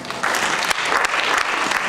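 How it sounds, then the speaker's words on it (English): Church congregation clapping hands together during a sermon, a dense, steady burst of applause that swells early and holds for a couple of seconds with faint voices underneath. "Give a clap of hand."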